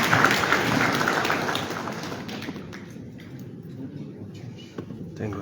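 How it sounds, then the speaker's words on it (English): Audience at an ECOWAS Convergence Council meeting giving a brief round of applause that fades quickly, leaving scattered claps and room noise with some talk. "Let's give him a round of applause"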